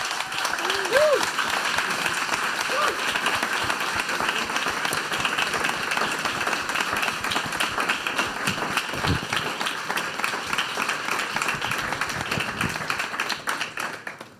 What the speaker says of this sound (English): please, everyone, give this man a round of applause